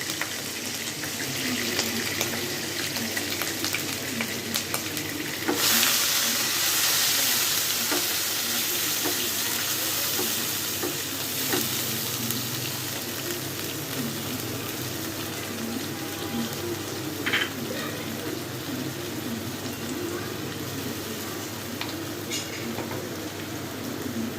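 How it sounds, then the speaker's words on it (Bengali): Onions sizzle and crackle steadily in a hot pan, a continuous close hiss with occasional stirring scrapes, no voices. "কতক্ষণ পেঁয়াজটা ভাজা ভাজা করে নিলাম"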